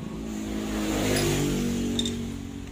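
A Honda Megapro motorcycle engine, suffering from a sudden ignition cutout fault, runs at steady idle with a low, continuous rumble, loud and close, without speech.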